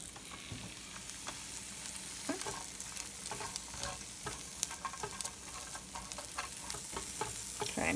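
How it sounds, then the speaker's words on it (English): Onions sauté in a hot skillet for fried rice, a steady close sizzle broken by scattered scraping and clicking as a utensil stirs them around the pan, with no one talking. "I'm going to saute those down until the onions get to be translucent."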